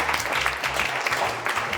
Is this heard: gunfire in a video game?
no